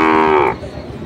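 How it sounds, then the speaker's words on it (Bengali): A Sahiwal bull calf at a livestock market gives one short, loud, close moo that cuts off abruptly, leaving faint market background. "চমৎকার দুটি গরু"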